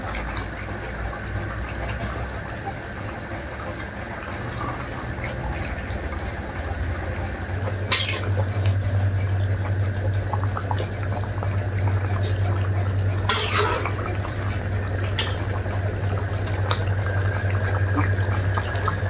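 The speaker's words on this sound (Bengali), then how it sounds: "মাছটা ঢেলে দিচ্ছি, ঢাকনাটা ঢেকে দেব" Rui fish slid into a pot of simmering winter vegetable curry, then a steady bubbling and sizzle that grows fuller after the addition, broken by a couple of brief sharp clinks of the lid or utensil.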